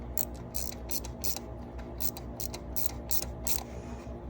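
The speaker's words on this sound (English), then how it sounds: "I'm gonna go ahead and pull this little ratchet out" A hand ratchet clicks in quick, rhythmic bursts while spark plugs are tightened on a 2017 Ford Escape 2.5L, heard close up with no talking.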